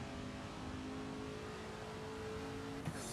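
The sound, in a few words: Ford GT40 race car engine accelerating in a VR racing game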